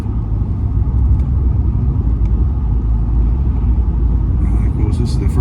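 A new diesel pickup truck engine runs with a steady low rumble throughout, heard close up while someone talks over it.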